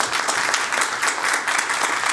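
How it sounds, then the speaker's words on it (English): An audience at a roundtable on financial surveillance and privacy applauds the panelists, a steady, even wash of many hands clapping close and loud throughout. "Maybe a round of applause for our panelists"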